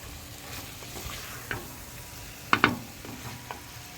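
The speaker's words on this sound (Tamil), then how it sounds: "நம்ம போட்ட மசாலாலாம் நல்லா கறியோடு சேர்ந்து நல்லா ஃப்ரை ஆகி வந்திருக்கு" Chicken and masala fry in a pan in a village kitchen with a soft, low sizzle, broken by a few sharp scraping stirs near the middle and no voices.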